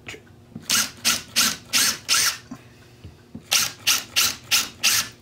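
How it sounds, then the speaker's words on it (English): A drill boring pilot holes into plywood during arcade cabinet work, heard as two close runs of short, loud, evenly spaced grinding bursts separated by a brief quiet gap. "I'm just gonna drill some pilot holes"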